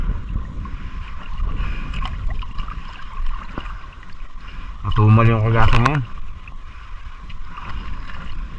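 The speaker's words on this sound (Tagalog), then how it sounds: "Malaki pa ang alon." Choppy waves wash steadily around a small fishing boat out for ultralight casting, a continuous near splashing hiss while someone speaks briefly midway.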